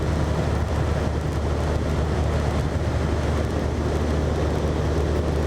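Light aircraft climbing out after a short-field take-off from Redhill, its engine at full power under a steady, loud broadband roar with heavy wind rush over a wing-mounted microphone, constant throughout with no voices.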